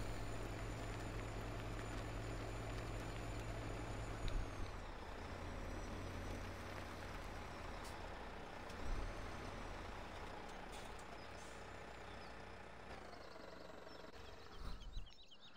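A truck in a farming video game rumbles steadily across a log, its low engine drone continuous and close, with a brief hiss like an air brake late on and no talk.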